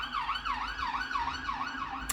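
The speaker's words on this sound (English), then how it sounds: "sorry for the sirens in the background" A wailing emergency siren sweeps up and down repeatedly in a steady cycle, sounding at moderate distance with no talking.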